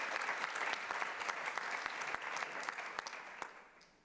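At an awards ceremony for the Megalizzi-Niedzielski prize, the audience claps in a steady, fairly soft roomful of hands with a few sharper individual claps, fading toward the end.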